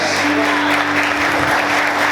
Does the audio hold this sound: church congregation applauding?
yes